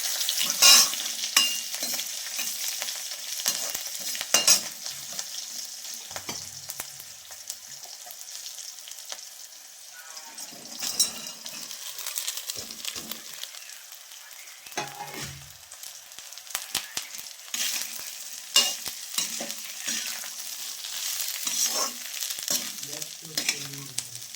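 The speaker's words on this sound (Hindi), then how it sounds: "ये है जीरा और हरी मिर्च का तड़का मारती हूँ" Steady oil sizzle as cumin seeds and green chillies fry for tempering, punctuated by scraping and stirring sounds in a pan, close and continuous with no talking.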